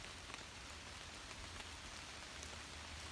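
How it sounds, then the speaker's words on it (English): Quiet, steady rainfall with a dense, even patter of drops, faint and continuous with no voices. "I'm going to pause for another moment to listen to the sound of the rain."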